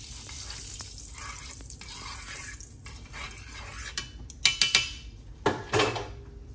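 Rib eye steaks sear in hot bacon grease in a pan, a soft steady sizzle broken by several sharp metal clanks of cookware and utensils toward the end, close by with no talk.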